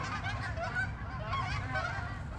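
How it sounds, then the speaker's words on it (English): A flock of geese honking together, many overlapping calls forming a dense, continuous chorus. "the sound of geese and birds and sky and flight"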